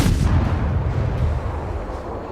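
Heavy warship main guns fire in World of Warships, a loud booming salvo with a long rumbling roll that fills the whole stretch, no voices.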